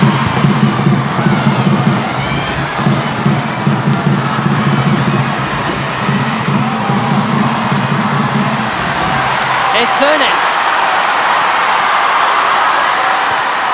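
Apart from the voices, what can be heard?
crowd cheering at Ashton Gate football match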